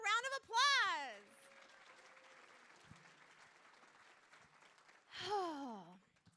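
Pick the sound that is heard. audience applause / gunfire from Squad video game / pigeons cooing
audience applause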